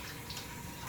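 Water rushes steadily from a kitchen tap as hands are washed during cooking, a close, even, full-band hiss lasting about a second with no pauses.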